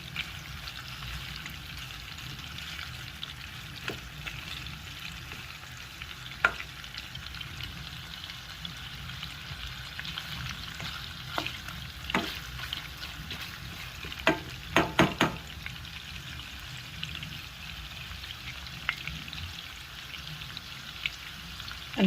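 Cajun smoked sausage fries in a pan with a soft, continuous sizzle and crackle, broken by scattered pops and spatters, heard close and fairly quiet throughout.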